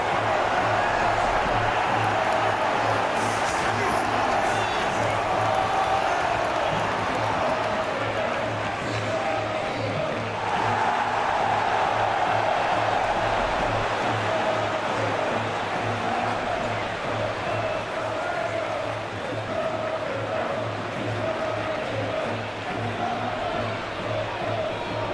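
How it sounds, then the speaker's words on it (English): Steady stadium crowd roar from a simulated England versus Norway football match, a dense continuous wash of fans that hums on at an even level for the whole stretch with a low tonal drone underneath and a faint voice over it. "The crowd are calling for this to be put to bed."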